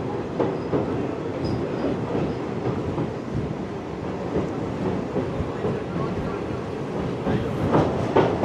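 A train rolls across the New Pamban Bridge at Rameshwaram in a steady, continuous rumble of wheels and carriages, mixed with strong wind noise and faint voices nearby.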